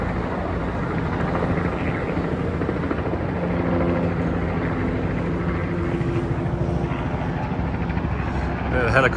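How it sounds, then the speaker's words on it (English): A helicopter's steady rotor thump and engine drone fill the whole stretch, loud and close on a windy New York City ride, with a voice speaking faintly underneath. "The helicopter rides down there."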